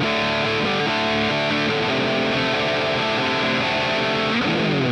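Electric guitar through an amp model of a NUX MG30 multi-effects unit, heavily distorted, with dense sustained chords and notes ringing continuously, loud and close, no voices.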